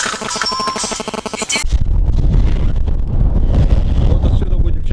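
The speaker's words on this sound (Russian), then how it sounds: "Ветер дует." A short burst of other sound gives way to strong wind buffeting the microphone in a loud, continuous roar.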